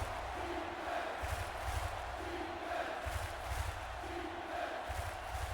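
A home crowd of Hamilton Rollers fans cheers at a football game against the San Francisco Shitbirds, a steady roar with rhythmic swells of chanting throughout.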